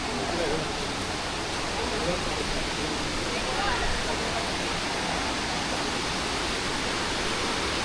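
A river flows near a temple in Rajapur, Konkan, giving a steady, dense rushing wash that fills the whole stretch without pause, loud and close with no break in the noise.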